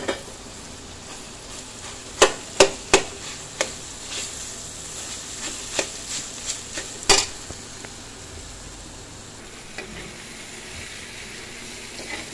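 Hakka chow mein noodles are stirred in a hot pan: a steady sizzle runs under repeated sharp clinks and scrapes of the utensil against the metal, close and irregular.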